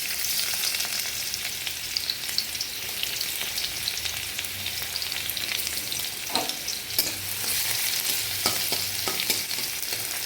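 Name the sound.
crushed garlic frying in oil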